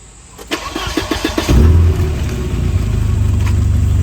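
Flooded, junk Volvo 240 wagon engine cranking with a few starter pulses, then catching and settling into a loud, steady idle close by.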